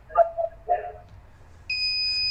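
A loud electronic alarm controlled remotely by a runlinc IoT controller in Australia switches on with a steady, piercing high tone after brief voices and a short burst of noise.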